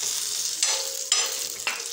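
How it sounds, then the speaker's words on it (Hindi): Turmeric and chili powder fry in hot tadka oil as they are stirred, a close crackling sizzle with a few sharper bursts of spatter and no talk. "थोड़ी सी हल्दी पाउडर, थोड़ी सी मिर्ची पाउडर डाल के इसको थोड़ा सा हम चला लेंगे"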